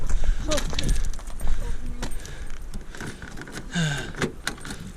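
Metallic jingle of keys being handled near a car, short rattling bursts alongside some talking and rustling.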